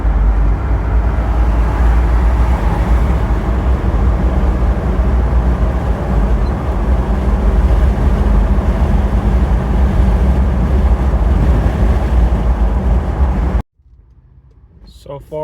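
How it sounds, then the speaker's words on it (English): A Mitsubishi car with a failing Aisin AW30-40LE four-speed automatic transmission drives along a road, a loud steady engine and road rumble from inside the cabin for about thirteen seconds before cutting off abruptly. "we're just gonna see if it shifts through all 4 gears"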